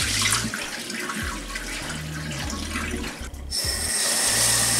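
Rice being washed in cold water under a running kitchen tap gives a steady close splashing rush, with brief dips as the flow shifts, before it turns to a brighter, thinner spray near the end.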